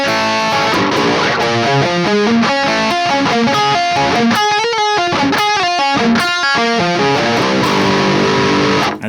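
An electric guitar with heavy distortion plays a slow arpeggio from a metal song, the notes picked one after another in a steady, dense, loud run with no voices.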